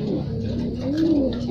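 A pigeon coos in one soft, low, throaty warble close by, rising and falling in pitch with faint background noise.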